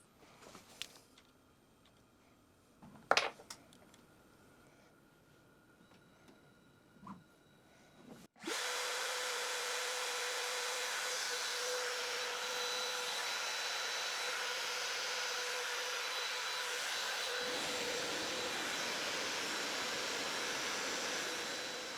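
A CNC router on a dry run cutting just into the spoil board gives a steady, loud, high-pitched spindle whine and cutting roar for about fourteen seconds, following a few faint knocks and handling sounds.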